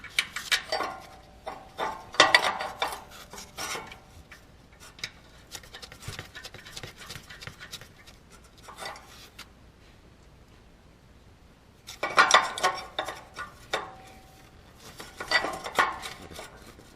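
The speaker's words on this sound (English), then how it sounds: "And we'll put our new nuts on here." New nuts go onto the exhaust manifold studs of a Ford Explorer 4.6L 3V, with light metallic clinks and scrapes coming in short clustered bursts, separated by near silence.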